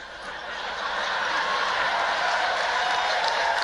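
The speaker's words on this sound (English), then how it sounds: "A little clapping." Light applause rises at a formal white-tie banquet in the Waldorf banquet room, starting soft and swelling into a steady patter of many hands that holds to the end.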